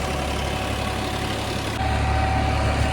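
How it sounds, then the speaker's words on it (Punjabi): A tractor running while pulling a rotavator through a field, a steady, close low engine drone with a constant mechanical hum that gets a bit louder partway through. "ਬਾਕੀ ਤੁਸੀਂ ਆਵਾਜ਼ ਤੋਂ ਹੀ ਪਛਾਣ ਰਹੇ ਹੋ ਪਤਾ ਹੀ ਨਹੀਂ ਟਰੈਕਟਰ ਨੂੰ ਵੀ ਕਿਵੇਂ ਚੱਲ ਰਿਹਾ"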